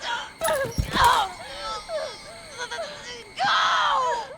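A woman's wailing screams echo through a house in a Resident Evil DLC horror game, several anguished cries rising and falling with a loud burst near the start and another near the end.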